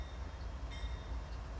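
Amtrak P-186 passenger train rolling past in a Roblox railcam game at Lee Hall, Virginia, a steady low rumble filling the whole stretch with no talk over it.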